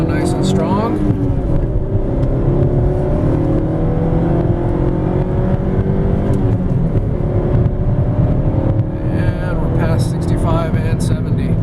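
2007 Mazda3 S hatchback with a 5-speed manual accelerating hard from a standstill, engine drone rising steadily in pitch through the gears from inside the cabin, with someone talking over it.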